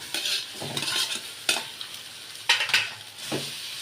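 Scrambled egg and macaroni stir-fried together in a pan with green chilies, making a crackling sizzle with repeated loud, irregular scrapes and clatters of a spatula against the pan.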